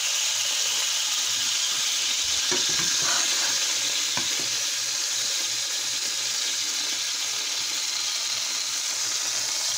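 An egg fries inside a slice of bread in a pan with margarine, giving a steady, even sizzle throughout with a few faint clicks and scrapes early on.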